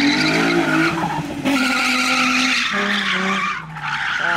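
Nissan 350Z thrown into a handbrake drift, its tires skidding in a loud, continuous squeal with wavering pitch and close engine roar, briefly dipping near the end.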